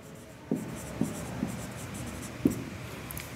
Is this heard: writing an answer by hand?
yes